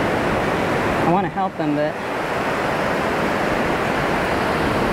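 Surf washes in on a fishing beach as a continuous loud broadband rush of water, with someone briefly speaking over it.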